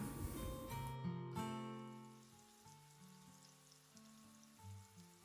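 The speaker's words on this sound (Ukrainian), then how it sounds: "в ту саму пательню викладаємо смажитися яблука" Faint sizzling of apples frying in oil in a pan, a soft crackle that carries on under gentle background music.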